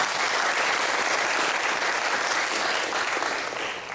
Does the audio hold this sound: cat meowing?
no